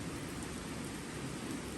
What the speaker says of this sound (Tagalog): kaso nga lang maulan guys kaya antayin kong titilang ulan